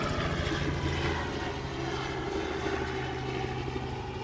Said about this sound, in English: There's a few helicopters fly over where we are at the moment.